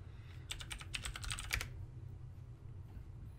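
Rapid clicking of keys on a computer keyboard, a quick burst of about a second of close typing over a low background hum, then quiet.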